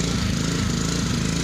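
Pressure washer spraying a wooden surface with a steady, hissing water blast and a low motor drone underneath, continuous and fairly close.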